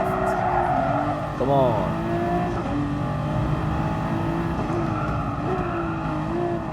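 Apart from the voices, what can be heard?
LaFerrari race car engine in video game Gran Turismo Sport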